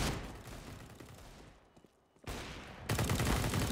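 Gunfire in a Counter-Strike match on the map Train, dense loud shooting that thins briefly to quieter scattered shots before a sharp headshot burst and renewed heavy firing.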